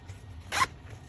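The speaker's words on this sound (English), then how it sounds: "And in the front is a zipper pouch." A zipper on the front pouch of a Viperade bag is pulled in one quick, bright stroke lasting about a sixth of a second, close and fairly quiet over a faint low background hum.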